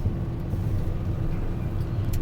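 A heavy gas truck climbs a mountain road, its low engine rumble steady and close, with road noise throughout the short stretch.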